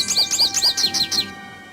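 Bird chirping in the video game Nancy Drew: Ghost Dogs of Moon Lake: a quick series of about six bright, repeated tweets at close range, ending abruptly into quiet.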